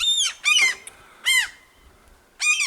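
Gulls at a nest on a house rooftop, giving loud, harsh squawking calls close by, in repeated bursts: a single call, a doubled call, then two more separated by pauses.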